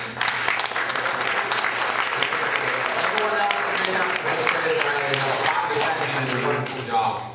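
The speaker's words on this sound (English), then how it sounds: "So if we can have a round of applause for" Applause from guests at a humanist solstice party honours the event organizers, a loose steady round of clapping with some voices and chatter mixed in.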